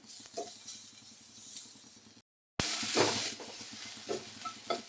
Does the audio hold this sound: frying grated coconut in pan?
yes